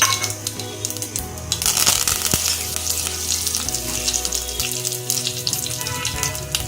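Curry leaves crackle and sizzle loudly in hot oil for a soyabean bhurji tempering already spiced with cumin, a dense steady spitting hiss close up with sharp pops, with no talking.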